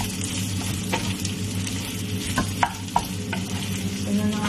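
Egg is stirred into egg fried rice in a hot pan, with a constant sizzle of frying underneath scraping spatula strokes and a few sharp clinks, close up with no talk.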